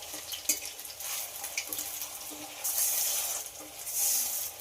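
Shaped eggs fry in hot oil in a pan, giving a steady close crackle and sizzle that grows brighter and louder partway through, with no talking.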